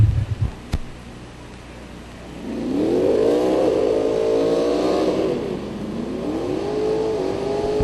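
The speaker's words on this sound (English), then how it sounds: "sound of cars, that's what I'm talking about" A drag race car at a Yellow Bullet Nationals event revs up after a brief mechanical clatter, its engine droning loud and close, rising in pitch, dipping, then climbing again without any talk.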